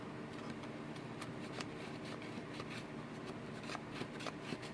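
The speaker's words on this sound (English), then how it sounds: "Now we're going to just burnish it down with our bone folder." A bone folder rubs and burnishes paper for a 3D cream gift box, giving faint, close, repeated dry scraping strokes with soft rustles.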